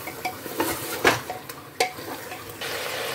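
Chicken coated in light and dark soy sauce is stirred in a pan, with close scraping and clinking strokes over a steady sizzle.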